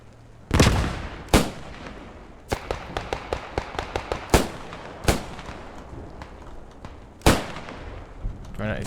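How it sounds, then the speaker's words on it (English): Infantry firefight gunfire from a multiplayer war video game: sharp single shots and rapid tapping bursts at varying distances, some close and loud, others fainter, while a commentator talks over the action. "Who will win this small little firefight?"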